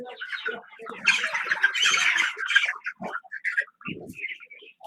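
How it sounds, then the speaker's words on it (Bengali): Chickens at a poultry farm, a dense burst of close squawks and clucks with some wing flapping, easing into scattered separate calls. "এই যে একটা মুরগির খামার দেখতে আসছি"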